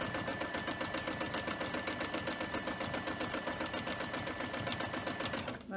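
A sewing machine stitches a heart-shaped mug rug in a fast, steady, continuous mechanical rattle, up close and even in speed, cutting off just before the end.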